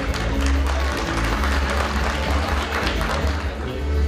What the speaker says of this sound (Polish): Brawa dla tego pana.